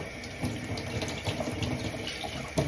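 Running tap water splashes over raw chicken wings in a sink being washed for cooking, a continuous close hiss with small irregular splashes and handling noises.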